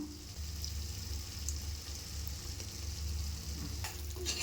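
Chicken biryani masala with lemon juice stirred in a pan, a steady close sizzle with soft scraping strokes running throughout, no voices.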